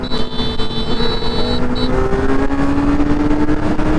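A superbike running with no exhaust fitted, a smooth rising whine as the engine revs climb steadily under wind rush, with a brief higher tone early on; loud and close, no talk.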